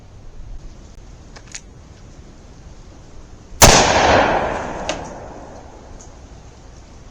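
A Marlin 1894 lever-action rifle fires a single hot +P .45 Colt load, one sharp loud report midway with a decaying outdoor echo and a faint click afterward, no voices.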